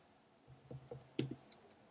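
Code being typed on a computer keyboard: a brief run of light, quick key clicks, about half a dozen taps at close range with no talking.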